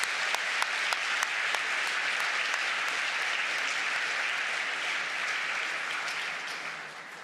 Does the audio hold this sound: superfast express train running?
no